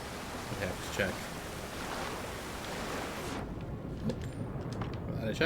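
A waterfall in the video game Avowed gives a steady broadband rush of falling water, loud at first, then it abruptly drops quieter partway through, leaving faint clicks and background noise.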